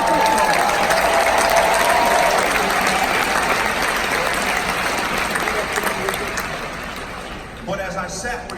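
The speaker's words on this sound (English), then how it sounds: "give the USC Marshall School of Business a round of applause" A commencement audience at the USC Marshall School of Business undergraduate ceremony breaks into loud, sustained applause with some cheering, filling the hall continuously and tapering slightly near the end.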